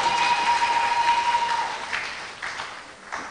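An audience applauds at a South Africa–Tanzania cultural season event, with dense sustained clapping from a crowd that gradually thins and fades toward the end.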